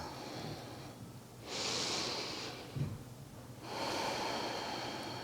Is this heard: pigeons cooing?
no